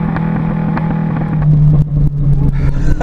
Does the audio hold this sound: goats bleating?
no